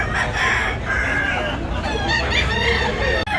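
A rooster crows at a busy Cebu poultry market in Tabunok, Talisay, its loud calls rising over a crowded bustle of clucking fowl and background murmur.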